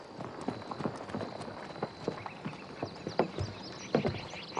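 Horse hooves clip-clop in a quick, even rhythm on a hard surface, moderately quiet and steady, with faint bird calls in the background.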